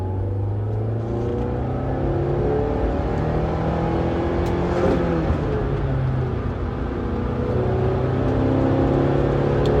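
A car accelerates on the road alongside a BMW, its engine note droning loud and steady from inside the cabin with a continuous rushing hum throughout.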